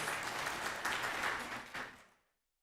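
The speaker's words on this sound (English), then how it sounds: "Everybody give them a big hand of applause." An audience at a pharmacy technology pinning ceremony claps steadily in a dense burst of applause that thins out and fades to silence near the end.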